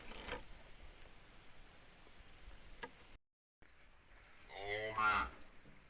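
Cattle moo once near the end of the clip, a single drawn-out call heard beside a reservoir while fishing, over faint outdoor ambience with a short dropout.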